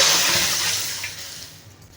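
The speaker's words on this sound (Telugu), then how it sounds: "స్టవ్ పైన బాండి పెట్టుకొని వాటర్ అయితే వేసుకోవాలండి" Water pours and splashes steadily into a pan on a stove, about four glasses' worth for ragi payasam, the rushing sound gradually softening over about two seconds.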